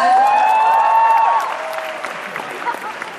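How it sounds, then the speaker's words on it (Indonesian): A live stand-up comedy audience claps and cheers loudly with a shrill whistle and shouts, then the applause thins out and trails off. "Tepuk tangan orang Batak"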